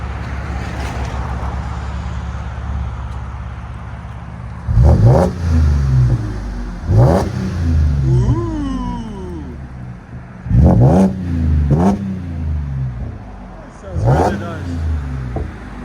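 A 2017 Audi Q7 3.0T supercharged engine revs through a Magnaflow exhaust, about five sharp throttle blips rising and falling over a steady idle, close and loud, with someone talking between them.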